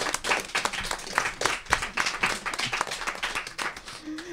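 Live audience applauding at a public podcast recording in a library, a sustained patter of many hands clapping nearby for several seconds before it thins out.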